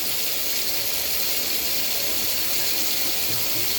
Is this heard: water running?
yes